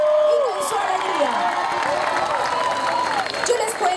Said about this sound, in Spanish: la barra del Barcelona lo acompañe con sus aplausos y con su alegría